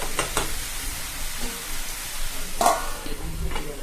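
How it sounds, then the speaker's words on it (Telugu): A spatula stirs and mixes Bengali-style eggplant curry in a pan, producing a soft steady sizzle with a few faint scrapes, close and low in level. "మొత్తం కలిసేటట్టుగా బాగా మిక్స్ చేసుకోవాలి."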